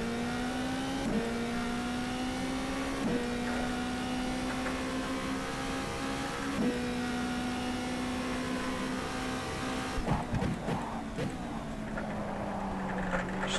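A Formula 2 car engine on throttle in the rFactor 2 racing game, at the Malaysia circuit, gives a sustained, loud, buzzing engine tone that climbs steadily as the car accelerates, with brief gear-shift dips and a rougher burst near the end.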